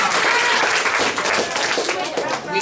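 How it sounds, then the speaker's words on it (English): School students at Woodlawn School applaud their teachers, a loud steady burst of crowd clapping with voices mixed in. "Let's give one more round of applause for the teacher."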